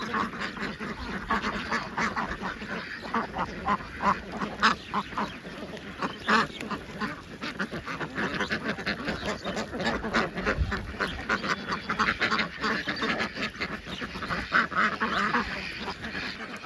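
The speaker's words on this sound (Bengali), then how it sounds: "দেখতে পাচ্ছেন বেলজিয়াম সাদা হাঁস, একদম খাঁটি" White Belgian ducks quacking at a duck farm; a continuous flock chorus of overlapping quacks, some louder and nearer, carries on steadily throughout.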